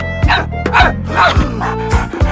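A dog barks and yips in short bursts over a steady rhythmic beat, the calls fairly loud and close.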